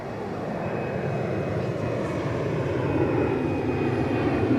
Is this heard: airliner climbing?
yes